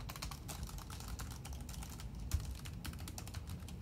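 Typing on a quiet Logitech keyboard, a rapid run of soft close keystroke clicks at an even pace over a low background hum.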